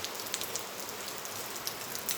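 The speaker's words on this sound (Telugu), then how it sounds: "ఇంత వర్షం పడుతుంది, ఇది ఎలాగైనా తీయాలి" Heavy rain falls among the ruined temples of the Kota Gullu at Ganapuram, where the marble carvings have been smashed: a continuous close wash of rain with scattered sharp drops striking hard surfaces, and no voices.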